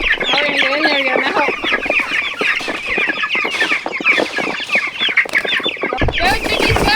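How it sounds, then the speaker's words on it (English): A flock of chickens clucks and squawks busily and close by as they are herded onto new pasture on a regenerative farm, with a voice urging them along in the background. "Go, chickies, go!"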